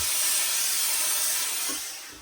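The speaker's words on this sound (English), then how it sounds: "So we're introducing a bit of steam" Steady, loud steam hissing close by as it is sprayed onto a black Borsalino fedora hat to reshape it, continuous for the whole stretch and easing slightly at the end.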